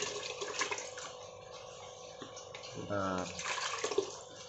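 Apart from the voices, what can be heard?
water being poured for artemia culture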